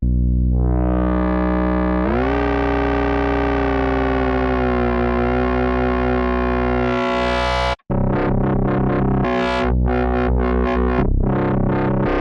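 A driven synthesizer bass waveform played an octave down from a MIDI keyboard holds a loud, gritty distorted tone that rises in pitch, cuts off briefly, then returns with aggressive, pulsing modulation.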